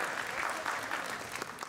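An audience at a concert of traditional music and folk instrument orchestra at the national conservatory applauds a musician, warm, even clapping throughout with no talk over it.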